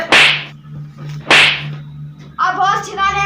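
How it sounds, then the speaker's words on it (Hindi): Two sharp slaps land about a second apart in a comedy sketch, loud crisp smacks close by, followed by a brief shout from a voice. "दोनों को 2-4 थप्पड़ लगाना पड़ेगा"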